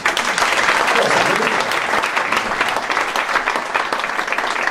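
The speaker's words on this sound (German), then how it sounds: "Ein Applaus für unseren lieben Markus." Steady, loud audience applause at a Cologne comedy cabaret show fills the whole stretch, dense and continuous with no pauses.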